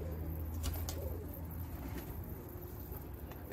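Kara kanat homing pigeons coo softly and faintly against a low, steady background hum, with no voices.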